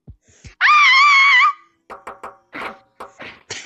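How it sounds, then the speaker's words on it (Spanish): A person playing Gorilla Tag over voice chat lets out one loud, sustained high-pitched scream that wavers slightly, followed by scattered short vocal bursts and noises. "grita muy agudo"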